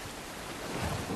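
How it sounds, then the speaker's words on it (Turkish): Steady rain pours in the video game The Last of Us Part I, a broad, even wash of hiss and rumble that swells slightly louder toward the end, with no voices over it. "Ekranınıza da yağmur düşür."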